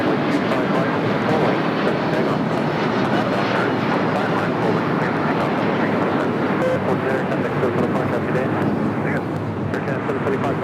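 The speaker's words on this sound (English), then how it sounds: "China Southern Cargo Flight 420 heading to Shanghai in a 777 freighter. Be taken off here on the south side coming up." A Boeing 777 freighter of China Southern Cargo takes off from the south side at LAX, giving a steady, loud broadband jet roar that holds throughout with no breaks.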